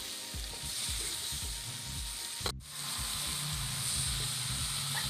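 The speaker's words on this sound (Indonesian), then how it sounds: "Aduk-aduk hingga bumbu tercampur rata." Spices stirred as they fry in a pan, giving a steady close sizzle and hiss with soft scraping stir strokes, a brief dip midway, and no talking.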